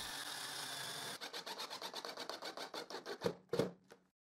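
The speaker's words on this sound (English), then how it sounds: "And now I screw that block." A screw is driven into a wooden block by a drill, starting with a steady whir, then breaking into a rapid series of rhythmic ratcheting pulses that slow and stop, close and fairly quiet.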